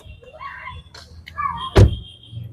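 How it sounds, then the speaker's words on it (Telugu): A rear door of a 2017 Tata Tiago XT hatchback is opened, giving a single sharp latch clunk midway, with faint background talk and handling noise around it. "వెనకాల డోర్ తీస్తున్నా అండి"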